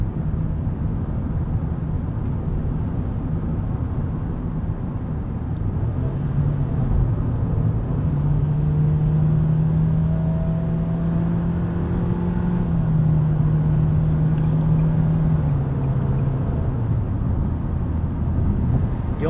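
A 2022 Nissan Kicks SR drives along with a steady cabin hum of engine and road noise, the engine drone rising and falling slightly in pitch as it pulls, no talk.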